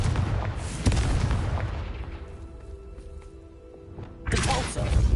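Confringo blasting spell explosions in Hogwarts Legacy, a loud booming blast that rumbles away into quieter game ambience before another heavy burst hits.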